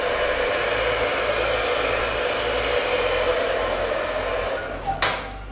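A hair dryer blow-drying hair during a brushing styling session, a loud steady whooshing roar running nearly throughout before cutting off near the end, with no talking.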